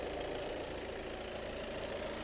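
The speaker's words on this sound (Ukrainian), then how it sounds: "Двигун працює ідеально, його ми не мили." Engine of a 2019 Volkswagen Tiguan Allspace R-Line 4MOTION idles smoothly, a quiet, even hum heard close with no talking.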